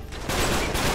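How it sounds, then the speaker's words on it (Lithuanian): Enemy gunfire in the video game Uncharted 3: Drake's Deception, a loud burst of rapid overlapping shots that swells after a brief quieter start. "Tik tais jie mus šaudo."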